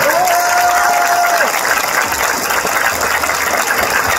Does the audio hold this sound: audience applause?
yes